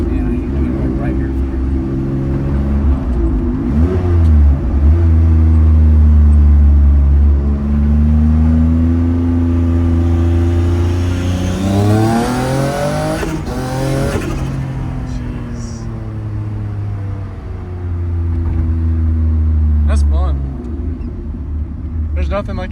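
Noble M400 sports car with a single turbo pulling hard from inside the cabin: a loud engine drone rising in pitch through several gear changes, with brief dips between shifts and voices talking over it.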